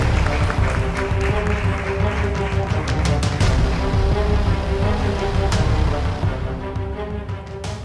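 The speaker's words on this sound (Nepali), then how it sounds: "ठुलो ताली बजाउने छौँ अजय सुन्दासको लागि" Audience applause filling a hall at the Voice of Glory Season 2 grand finale for the third runner-up, loud and sustained across the whole stretch with a dense, steady roar of clapping.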